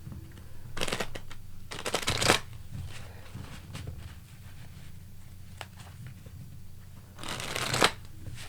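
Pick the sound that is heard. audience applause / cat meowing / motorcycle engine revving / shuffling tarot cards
shuffling tarot cards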